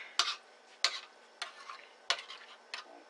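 A wet mixing spoon stirs through a chicken and rice dish being mixed in a pot, making five distinct scraping clacks at a steady, unhurried pace, close and fairly quiet, with no talking.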